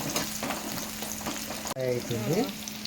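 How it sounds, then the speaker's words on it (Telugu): Ivy gourd (tindora) frying in a pan for a kurma, with a crackling sizzle and stirring scrapes; partway through, a short sung or whistled melodic tone rises over the frying. "చల్లగా అయ్యే వరకు మనము దొండకాయ ఫ్రై చేసుకుందాం"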